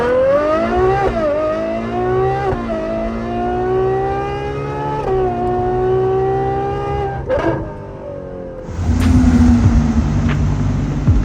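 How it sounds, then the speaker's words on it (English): A tuned Ferrari 812 with a V12 engine revs in repeated rising sweeps, a loud, close, harmonic wail that climbs and drops several times before breaking into a harsher, louder roar near the end. "To me, this is one of the best sounding Ferraris I've ever driven."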